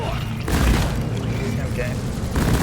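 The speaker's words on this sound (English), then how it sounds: "let's throw some breach cutter rounds up there" Breach cutter rounds fired in the video game Deep Rock Galactic, two heavy booming discharges a couple of seconds apart over a loud, rumbling game soundscape.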